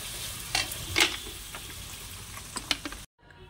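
A Bengali-style curry bubbles and sizzles in a pan after a little water is added, with a steady close hiss broken by a few sharp spatters and stirring scrapes, then it cuts off abruptly.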